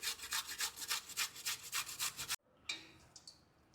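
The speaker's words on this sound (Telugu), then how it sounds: "క్యారెట్ ఈ విధంగా తురుముకోవాలి." A carrot being grated by hand on a grater, about a dozen rhythmic rasping strokes in quick succession, close and clear, then a sudden stop followed by a few faint clicks and quiet handling.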